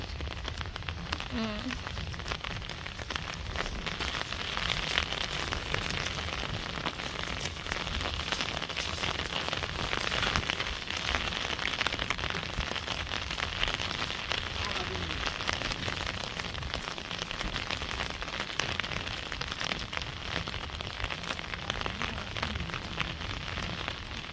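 Steady rain falls continuously in a village, a dense even hiss that carries through the whole stretch with no break, and voices talk faintly beneath it.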